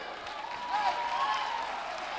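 A congregation claps at a charismatic church service, a dense patter of many hands building midway and holding steady, mixed with crowd murmur and voices.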